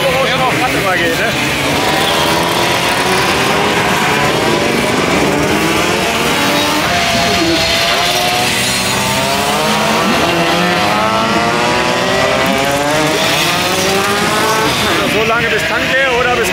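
Simson mopeds at a large German meetup come out of a curve at full throttle, their two-stroke engines whining and rising in pitch in overlapping waves, loud and continuous throughout.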